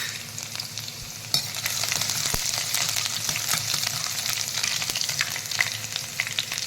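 Eight to ten large garlic cloves drop into hot oil with cumin and sizzle in a dense, continuous crackle, with occasional stirring clicks and no voices.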